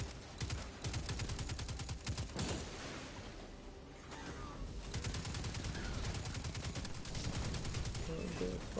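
Rapid, sustained gunfire in Destiny 2, bursts of automatic shots rattling loudly and almost without pause, with one brief lull in the middle before the firing resumes.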